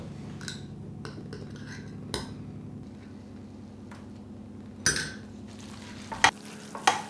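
A spoon stirring brown sugar into onions cooking in a pan, with a low steady frying hiss under several sharp clinks and scrapes of metal against the pan, close and fairly quiet.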